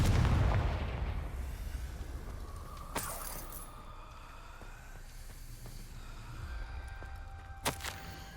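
Confringo fire-blast spells in the PS5 game Hogwarts Legacy go off as a sharp blast followed by a couple of further bangs and rumbling debris, with a low roar fading early on.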